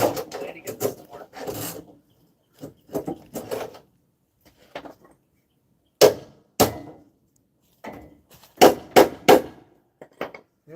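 Sharp metal hammer strikes on a front axle bolt of a 1999 Jeep Cherokee XJ, coming in irregular clusters of close, loud blows with pauses between.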